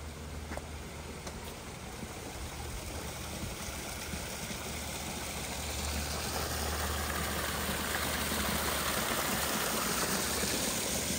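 Garden stream and pond in a landscaped Encino yard, water flowing and splashing in a steady, even rush that swells slightly partway through, with a low hum underneath and no talking.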